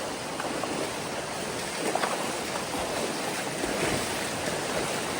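Water from a natural spring flows steadily out of the ground in a jungle near Chitrakoot, a continuous close rushing and gurgling with faint splashes and no voices.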